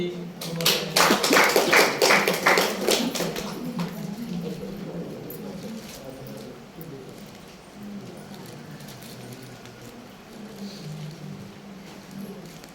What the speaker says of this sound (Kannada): ಚಪ್ಪಾಳೆ ತಟ್ಟಿ